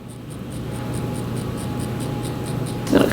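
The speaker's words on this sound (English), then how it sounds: "Take my scissors and I'm just gonna angle downwards." Scissors snip through the hair of a kinky straight V part wig, giving a steady run of quiet rhythmic cuts over a low hum, followed by a louder rustle at the end.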